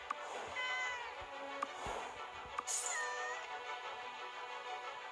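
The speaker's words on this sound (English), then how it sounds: "stop meowing" A cat meows several times in a short series of plaintive calls, fairly close, over a steady bed of soft game music and background hum.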